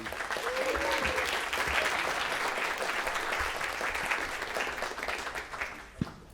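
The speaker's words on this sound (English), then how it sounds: "Can we give Ben another big round of applause, please?" A concert audience applauds at a university jazz band summer concert, a full, continuous round of clapping that fades slightly toward the end, with a short voice-like tone early on and a sharp knock near the close.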